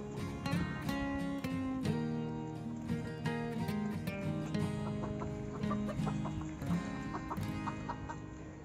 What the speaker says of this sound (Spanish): este es el recinto donde tengo a mis gallinas